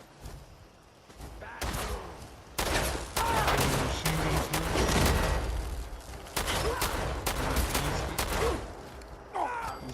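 Raiders' gunfire in the video game Fallout 4 arrives in bursts of sharp shots and rapid volleys, loud and close, with short gaps between salvos and faint sounds in between.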